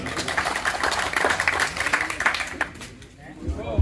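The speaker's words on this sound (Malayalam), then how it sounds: "അങ്ങനെ എല്ലാവരും ഒന്ന് കൈയടിച്ചും കണ്ട് പാസ്സാക്കാം" An audience at a charitable trust's general body meeting in Karakkaparamba, Wandoor claps to approve a decision, a short burst of scattered applause that fades toward the end while voices speak over it.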